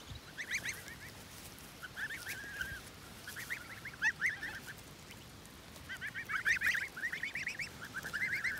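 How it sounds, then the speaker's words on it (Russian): A flock of geese in a village honks repeatedly in clustered bursts, moderately distant, over a quiet low rumble of background noise. "Жизнь гусей."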